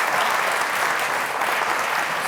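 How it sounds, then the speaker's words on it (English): Dense, steady audience applause at a community awards ceremony, many hands clapping continuously and loudly with no voices standing out. "Another round of applause for"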